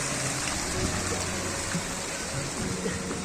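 Steady flowing water in Shimla, a broad continuous rush and gurgle like a stream or outflow, close and loud throughout with no voices.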